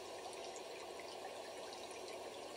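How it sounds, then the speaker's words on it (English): Running water in a quiet room heard alone, a continuous soft hissing flow that is faint and even throughout with no other sounds. "Can you hear the water?"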